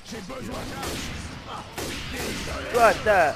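Gunfire and explosions from the zombie shooter Left 4 Dead 2, set in a swamp level, crackle and thump in scattered bursts beneath steady talking, with a sharper cluster of blasts near the end.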